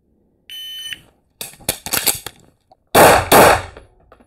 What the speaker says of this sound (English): I'm just gonna give myself a start signal anyway